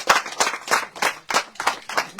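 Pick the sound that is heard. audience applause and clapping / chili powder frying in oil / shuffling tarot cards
audience applause and clapping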